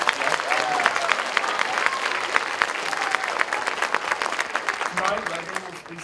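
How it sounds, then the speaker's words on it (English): Audience applause at a choir concert fills the hall with dense, steady clapping from a large crowd, with a few voices and cheers mixed in, tapering slightly near the end. "Round of applause, please."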